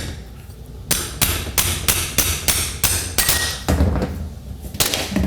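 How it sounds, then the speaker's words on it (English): A small ball-peen hammer strikes a metal part from a 1982 Chevrolet pickup's Turbo 350 transmission during a rebuild, about ten sharp, close, evenly spaced metallic blows, loud and clear with no talk. "This is what I call my baby ball peen."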